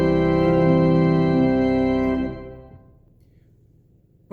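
Pipe organ sounding a blended registration of several stops, a rich sustained chord with deep bass and bright upper harmonics that holds loud for about two seconds, then releases into a fading reverberant decay in a large space.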